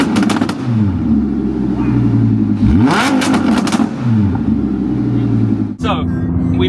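An Audi R8 engine revs hard and roars through a loud Quicksilver exhaust, pitch rising and falling with shifts, close by and mixed with indistinct voices.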